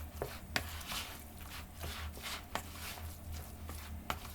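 A knife chops onion on a cutting board in a home kitchen, a handful of distinct sharp taps spread irregularly over a few seconds, fairly quiet with no talk.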